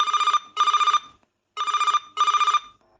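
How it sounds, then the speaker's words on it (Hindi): A telephone rings for a call into a radio interview program, two pairs of bright electronic ring bursts separated by a pause, clear and alone. "बालाघाट बैहर जिले के जय कुमार रामटेके जी, जिनसे हमने टेलीफोन के जरिए संपर्क साधा।"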